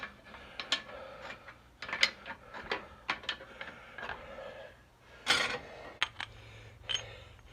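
Wrench work loosening nuts on the cylinder head studs of a Cat 60 engine: a series of sharp metallic clicks and ratcheting bursts at an uneven pace, close by, with brief pauses between them and no voices.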